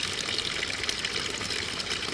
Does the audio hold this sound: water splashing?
yes